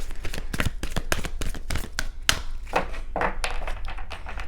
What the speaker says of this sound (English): All right, my last shuffle.